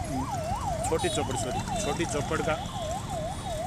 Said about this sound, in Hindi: आगे इधर जो ट्रैफिक मूव हो रहा है, जो एम्बुलेंस जा रही है